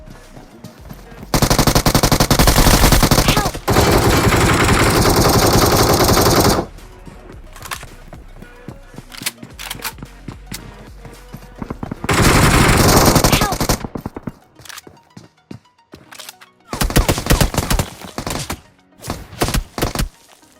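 Gunfire from the video game BGMI comes in long, loud bursts of rapid automatic fire, separated by quieter stretches of scattered single shots and game noise.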